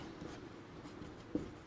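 A pen writes math working on paper during a Class 12 calculus lesson. The close, continuous soft scratching has a small tap near the end.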